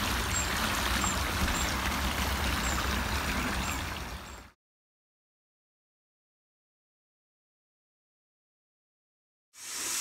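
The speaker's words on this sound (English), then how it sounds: "Gorgeous little stream." A clear little stream on a country walk flows with a soft, continuous trickle for about four seconds, then the sound cuts to silence before briefly returning at the end. The water is faint and there is no talking.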